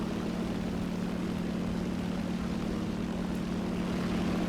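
A steady propeller drone from a bomber aircraft in the War Thunder game, here an SBD-3 American dive bomber, holding a constant loud hum with no gaps and no voices.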